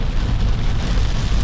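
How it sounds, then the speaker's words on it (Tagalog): Heavy rain pours down steadily during a road trip in Bicol, a dense, loud, unbroken hiss of drops with no voices. "Bumuhos na yung ulan!"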